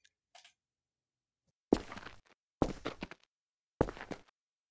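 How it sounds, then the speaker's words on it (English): Footstep sound effects on concrete from a Wwise game audio demo: three crisp, hard heel-and-toe steps play alone at an even pace, each a clean near impact separated by silence, after a faint tick. "One with sounds of footsteps on concrete"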